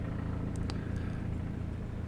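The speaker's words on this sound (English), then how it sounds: "Excuse the background noise of the helicopter" A steady low engine drone with a throbbing rumble fills the background, like a helicopter passing at a distance.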